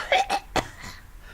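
A narrator's voice imitates a sick child's coughing, three short harsh coughs in quick succession, close and fairly loud, followed by a faint breathy tail.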